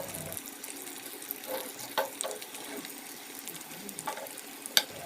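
Peeled potatoes being rinsed and swished in water, with irregular splashes, drips and soft clinks over a steady watery background and no talking.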